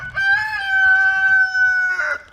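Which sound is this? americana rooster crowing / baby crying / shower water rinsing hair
americana rooster crowing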